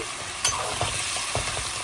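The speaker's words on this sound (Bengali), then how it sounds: "পেঁয়াজ দেব পেঁয়াজটা একটু ভাজা হতে থাকুক" Onions sizzle in a pan while being fried for a chicken curry. A steady hiss runs throughout, broken by a few scraping stirs of the spatula.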